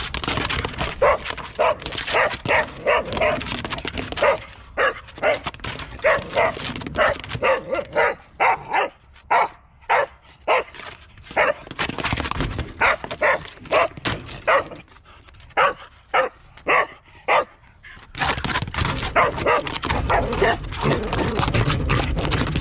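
A young hunting dog in training barks repeatedly in rapid, rhythmic bursts after finding a wild boar's scent, loud and close, with a few short pauses and some whining between barks.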